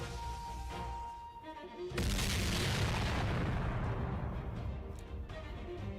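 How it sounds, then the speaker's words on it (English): An explosion in Fate Grand Order: after a quiet stretch with faint tones, a sudden loud boom bursts in and rolls on as a sustained, crackling roar that slowly fades. "An explosion."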